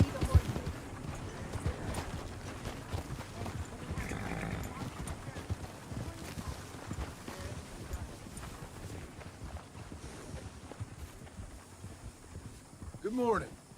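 Horse hooves clip-clop at a walking pace in the western video game Red Dead Redemption 2, a soft repeated thudding under game characters talking and light wind ambience.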